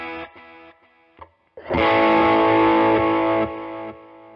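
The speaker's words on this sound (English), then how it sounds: "we're going to be having a medium gain overdrive on" A few clean plucked notes give way to a loud, thick electric guitar chord with medium-gain overdrive that sustains with gritty crunch before easing off.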